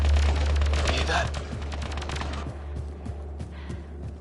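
Rapid gunfire in Mass Effect Andromeda, a dense burst of overlapping shots up front that thins into scattered, fainter cracks.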